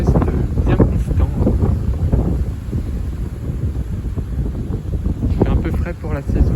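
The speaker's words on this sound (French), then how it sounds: "Donc là, c'est un vent d'ouest bien constant." Constant west wind buffeting the microphone with low rumbling gusts, steady throughout with a faint background hiss.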